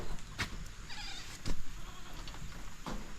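A goat bleats several times in short, nasal cries at close range outdoors, with faint background noise between calls.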